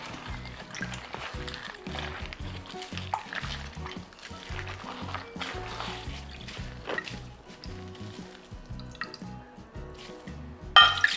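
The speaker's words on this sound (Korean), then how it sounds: "물 300ml 더 넣을게요." Water poured into a simmering perilla seed stew, a faint splashing trickle and bubbling over light kitchen clatter, with soft background voices and a sharper knock at the end.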